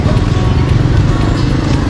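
A large 850 motorcycle rides by on a road in Luang Prabang, Laos, giving a loud, close, steady engine rumble that holds throughout.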